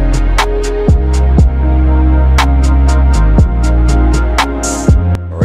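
Music track mastered by an AI app plays loud and dense, with regular sharp percussive hits over sustained bass and harmonic layers and a steady rhythmic pulse, with no talk.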